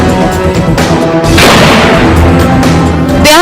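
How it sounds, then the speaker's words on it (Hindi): Celebratory gunfire from pistols and rifles at a wedding, a loud booming burst cutting through wedding music playing throughout. "शादी के गाने बज रहे थे तो उसके बीच रह रहकर फायरिंग की कर्कश"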